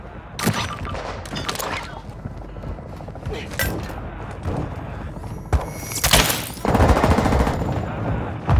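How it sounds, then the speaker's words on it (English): Gunfire in a multiplayer shooter, with scattered loud booming shots and then a denser closing barrage, mixed under radio-style team chatter. "Sounds like they got a shotgun they like to use."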